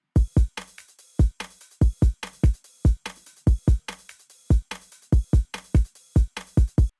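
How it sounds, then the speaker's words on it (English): A full programmed drum beat loops steadily, with booming kicks, snappy rim shots and a hissing open hi-hat pattern layered in a fast, bouncy groove. "So the full drums together sound like this."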